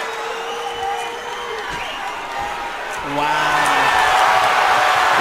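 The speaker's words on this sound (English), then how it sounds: "The crowd goes wild as Hernandez is able to escape." An MMA crowd at a Fury FC 31 fight erupts into loud cheering and whoops as a fighter escapes, swelling sharply midway, with an excited commentator's voice running over the noise.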